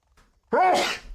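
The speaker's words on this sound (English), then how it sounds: "I gotta sneeze" A single loud, close sneeze after a brief quiet moment, sharp burst trailing off quickly.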